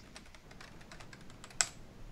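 Rapid clicking of fingers typing on a computer keyboard, an uneven run of light keystrokes at close range ending in one sharper, louder key press, with no voices.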